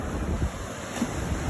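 Sea waves roll onto the quiet, white-sand Hat Sao Iang beach in Phetchaburi, Thailand, a steady surf wash mixed with wind buffeting the microphone, with no voices.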